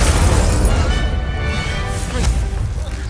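Fire spell effects being cast in Hogwarts Legacy, a continuous loud roaring blast with crackling bursts and impacts sustained throughout, no clear talk over it.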